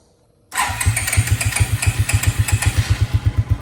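A 2002 Suzuki King Quad 300 4x4 ATV engine catches after a quiet moment and settles into a loud, close, rhythmic chugging idle.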